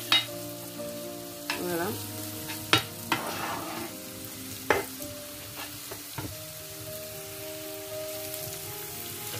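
Basil and vegetables frying in a pan while preparing a hachis parmentier, a steady sizzle with occasional clinks of a utensil stirring, one brief spoken word near the end.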